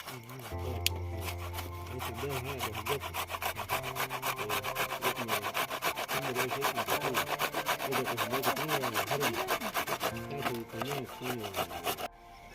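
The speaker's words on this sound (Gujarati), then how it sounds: "હવે આપણે આ ટમેટા ખમણી નાખશું." Tomatoes are rubbed across a hand grater for a whole-brinjal curry, giving a rapid, steady rasping rhythm of close strokes over a faint tonal background.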